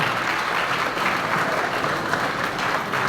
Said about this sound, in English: can we all stand in as we give him a very wonderful round of applause